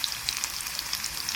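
Crushed garlic added to hot oil already holding mustard and cumin seeds, frying in a kadai, a short steady sizzle with fine crackling and no voices.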